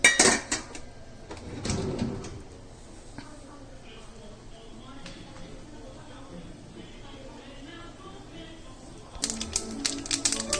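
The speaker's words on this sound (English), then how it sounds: "Wait for the mustard to burst." Mustard seeds crackle and pop in hot oil in a wok as rapid, irregular clicking bursts, louder at the start and end with quieter spitting between.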